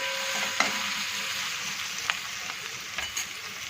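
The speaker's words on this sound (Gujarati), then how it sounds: "હવે થોડીક વાર આપણે ડુંગળીને સરસ શેકાવા દઈએ" Onions fry in a pan for a snack of leftover rotli, giving a soft continuous sizzle with a few faint clicks of stirring, quiet and close, with no talk.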